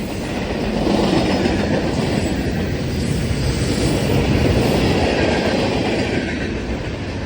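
Norfolk Southern 8114 heritage locomotive hauling a train past at close range, a loud, dense rumble of wheels with clickety-clack on the rails, swelling and holding steady throughout with no voices.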